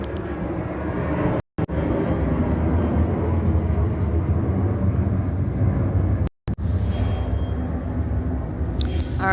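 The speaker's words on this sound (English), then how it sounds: "While Southwest Airlines is flying directly over me." Southwest Airlines airliner passing directly overhead in the early morning, a loud steady low engine roar filling the clip, briefly cut by two short gaps, with a faint tone near the end.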